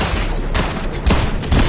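Bursts of rapid gunfire in a shooter video game, loud and close, with several dense volleys over a couple of seconds and no talk.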